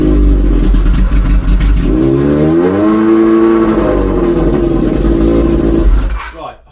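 A Kawasaki ZZR 1100 (ZX-11) motorcycle engine runs on choke with a loud, steady idle whose pitch rises and falls as the revs swell, close by and continuous before it cuts out near the end.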